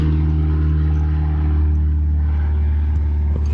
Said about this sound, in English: there's a plane up ahead, so let's make that go by